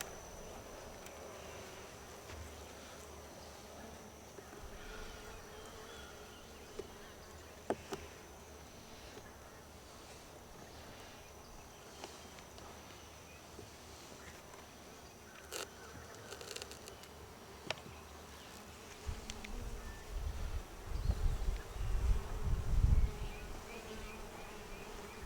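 Honey bees hum steadily inside an opened beehive fitted with a frame of drawn-out comb, a soft continuous drone with occasional brief knocks and a louder rumbling burst near the end.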